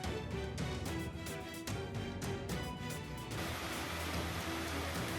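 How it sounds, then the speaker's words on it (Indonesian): A sudden hailstorm of marble-sized hailstones in Majalengka gives a dense, steady clatter and hiss of ice striking surfaces. It is loud and continuous, with no voices. "Hujan es ini baru pertama kali terjadi di Majalengka."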